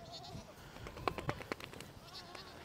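Several goats bleat close by in a quick cluster of calls, with faint background noise between them.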